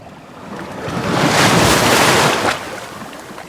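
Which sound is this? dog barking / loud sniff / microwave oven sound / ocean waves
ocean waves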